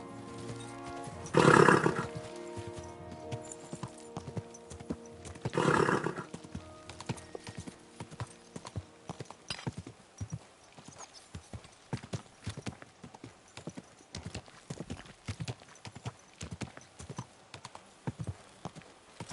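In a video game, hooves clip-clop in a steady rhythm after two loud horse neighs near the start, the galloping continuing evenly and fairly close.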